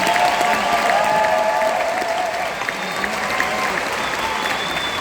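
Sustained applause from a large crowd at a high school graduation ceremony in Midlothian, Texas, steady and dense throughout with a few scattered cheers and voices mixed in.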